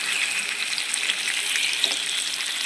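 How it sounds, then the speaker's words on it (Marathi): Chopped tomatoes and garlic fry in oil in a pan, giving a steady, close sizzle with small pops and crackles throughout and no talk. "आणि लसूण टाकून त्यांना फ्राय करून घ्यायचं आहे."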